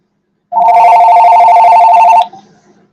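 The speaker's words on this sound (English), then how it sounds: "I told you I have to have the phone ringing." A loud, close telephone ringing in one continuous electronic trill that starts abruptly and then cuts off, with a faint trailing tail and no talking.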